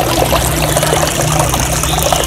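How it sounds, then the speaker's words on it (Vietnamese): Water tumbles from a painted fake-rock waterfall into a small pond, making a loud, steady, close rush and trickle with a low hum underneath. "Cái tiếng suối chảy róc rách và cái khói các bạn nó tỏ ra từ cái thác ra"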